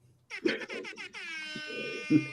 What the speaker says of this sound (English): Can I do the air horn?